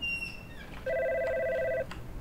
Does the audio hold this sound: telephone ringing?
yes